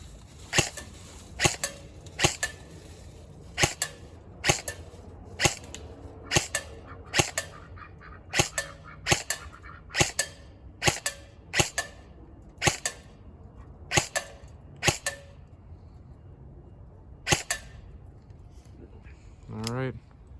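A VFC Mk18 airsoft rifle fitted with an ACOG and suppressor fires about twenty single shots at a steady, unhurried pace, each a sharp close pop with quiet gaps between, outdoors.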